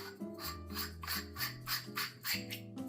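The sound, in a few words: stainless steel burr hand grinder grinding coffee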